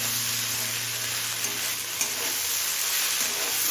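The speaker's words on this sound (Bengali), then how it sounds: "সমস্ত মশলা মিশিয়ে আরও 3-4 মিনিট ভেজে নিলাম।" Steady sizzle of spices frying with egg and vegetables in a pan, a constant crackling hiss at low volume with a few faint stirring clicks and no talk.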